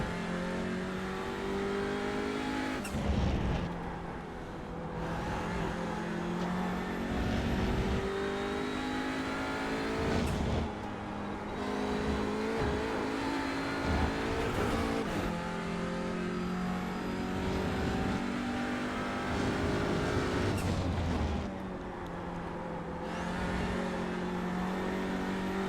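A damaged TCR touring race car in iRacing at Laguna Seca revs hard and loud, its engine climbing and dropping through repeated gear shifts with brief lifts between accelerations, and no voices over it.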